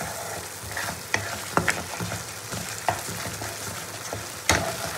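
Spice masala for restaurant-style butter paneer is stirred and roasted in a pan, a constant close sizzle broken by several sharp scrapes and taps of a spoon.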